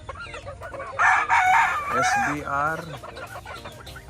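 Backyard breeding chickens, young future brood hens, cluck and crow loudly close by in bursts, while a person talks in the background.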